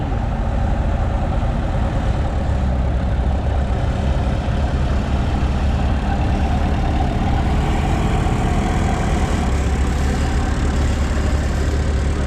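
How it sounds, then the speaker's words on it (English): A steady, heavy Massey 97 engine powering a sawmill drones continuously at a constant loud level, a low rumbling idle with mechanical clatter throughout. "There's the sawmill. Powered by a Massey 97 engine."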